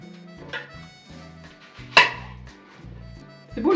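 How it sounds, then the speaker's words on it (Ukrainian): A knife chops onion on a board in a few sharp, spaced strokes over faint background music. "спочатку я поріжу цибулю і поставлю її тушкувати"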